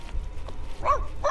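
A dog in The Sims 2 video game gives two short, soft barks about a third of a second apart, faint over a low background hum of game audio.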